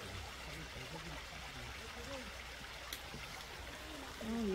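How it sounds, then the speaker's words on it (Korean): Water runs steadily in a mountain valley stream in winter, a continuous soft rushing and trickling with faint, distant voices beneath it. "우리 계곡에 물소리 한번 듣고 갈까요?"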